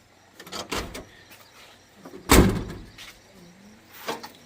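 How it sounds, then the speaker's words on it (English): A Ford Bronco door under restoration swings shut with one loud, solid thud, preceded by softer handling clatter and followed by a lighter knock, close by in a workshop with no talking. "And the door's shut."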